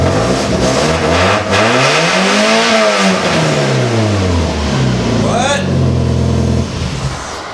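A first-generation (NA) Mazda Miata engine with a slight exhaust leak rises and falls through a long rev, sweeping up and back down, then revs again sharply before settling toward idle.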